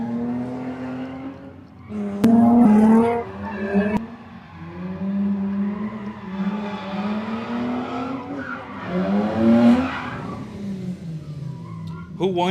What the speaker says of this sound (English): we've got drifting going on today